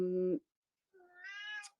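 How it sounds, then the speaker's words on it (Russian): A house cat meows twice indoors, a short low call, then a pause before a longer rising meow, close to the microphone and heard on its own without talk. "У меня кот тут тоже включился в разговор."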